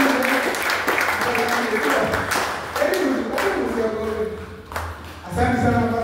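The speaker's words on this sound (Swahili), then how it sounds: "Tuwapigie makofi." A congregation claps during a church service. Scattered applause rises and falls under a speaking voice, with occasional thumps and taps.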